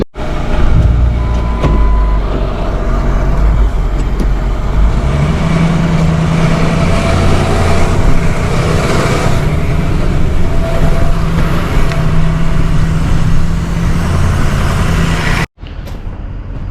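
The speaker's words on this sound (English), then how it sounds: "So now I need to take a pickup truck over." A pickup truck drives on a farm, its engine drone and road rumble steady and close throughout before cutting off briefly near the end.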